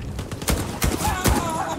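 Gunfire from the Call of Duty Black Ops 6 video game rings out as several loud, close shots in quick succession, with a faint voice mixed in underneath.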